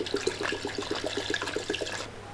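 Water pours steadily into a cooking pot holding chopped cluster beans, a continuous splashing, gurgling stream heard up close with no talk over it.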